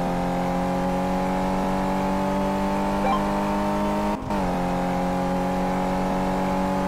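A car engine in Car Mechanic Simulator 2015 holds a steady, loud drone at high revs, with a brief dip around a gear change before settling back into the same constant whine.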